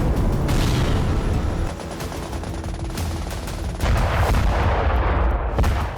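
Turkish army artillery strikes in Syria, heard as loud, continuous low rumbling and booming with rough blast-like texture and a distant roar that barely lets up throughout.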